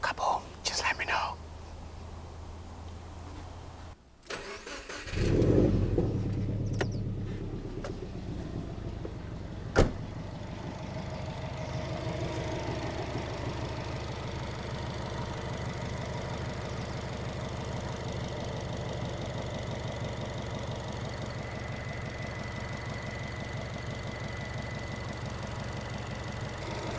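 A car engine cranks and catches after a V-belt replacement, with a short burst of noise, then settles into a steady warm idle that continues quietly to the end, with faint voices in the background.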